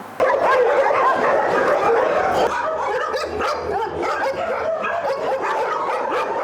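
Several dogs bark repeatedly at an animal shelter housing both dogs and cats, a dense, overlapping chorus of loud barks and yips close by, with some whimpering mixed in and no talk.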